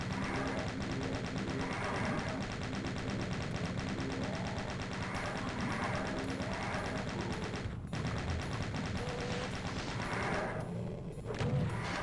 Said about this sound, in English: Going to use the chain gun to mow down these enemies.